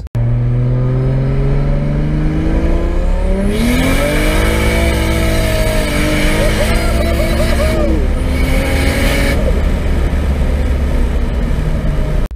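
A 680-horsepower turbocharged BMW E36 accelerating hard, its engine climbing loudly through the revs with a brief drop at a gear change before pulling up again, close and sustained throughout.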